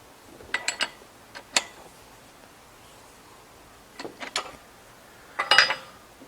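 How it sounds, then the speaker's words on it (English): Metal clicks and brief rattles come from tightening the clamp screw on a RIDGID 141/161 geared pipe threader, in short separated clusters that are close and moderately loud, with no talking. "now I'm going to tighten up the clamp screw"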